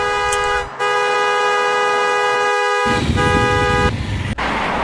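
A car horn blares in one long, loud, continuous honk, with a brief break and traffic rumble underneath near the end.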